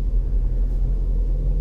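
Deep, steady exhaust rumble from a 2016 Ford Mustang GT V8 fitted with a Corsa Xtreme exhaust, idling close by with a low, even throb and no voices.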